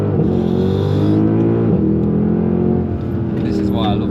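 A Mercedes-Benz C63 AMG W204 at the Nürburgring roars with a loud, sustained engine note, rising and dipping in pitch as it revs through gear changes, with people talking over it.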